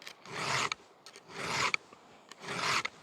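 A chainsaw chain being sharpened with a hand file: three steady rasping strokes, each about half a second long, separated by brief pauses and small metallic ticks, close and clear with no talking.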